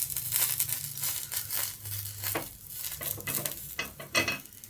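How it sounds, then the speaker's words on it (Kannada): Paddu dumplings in a paddu pan are turned one by one, giving soft sizzling and scraping clicks in irregular bursts, close and fairly quiet with no talk. "ಇವಾಗ ಇದನ್ನು ಒಂದೊಂದೇ ತಿರುಗಿಸ್ಬಿಟ್ಟು ಹಾಕೊಳ್ಳೋಣ."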